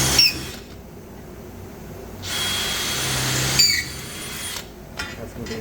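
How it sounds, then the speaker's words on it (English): A power drill whines in two bursts, grinding through metal with high squeaks while drilling holes in a rib of a VW Bay Window bus body, separated by a quieter pause. "I'm going to go ahead and drill these holes"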